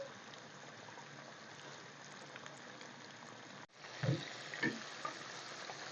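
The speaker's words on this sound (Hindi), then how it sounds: "अब इसको अच्छी तरह फ्राई कर लेंगे।" Fish sizzling steadily in hot oil in a home kitchen, a dense continuous crackle with a brief dropout and a couple of louder spits partway through, no talking.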